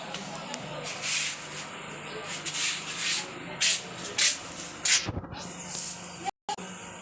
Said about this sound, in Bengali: থালা বাসন কটা ধুয়ে ফেলি